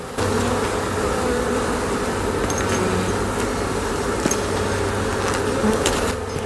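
Arataki honey bees buzz steadily while being hived, a dense, continuous drone that stays close and loud throughout, with a low hum underneath and no talking.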